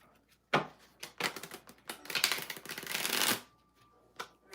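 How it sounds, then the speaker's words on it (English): Tarot cards are shuffled close up during a live reading, several quick riffling bursts that build into a longer dense flurry, then stop, followed by a few faint soft taps. "5 shuffles for Natasha"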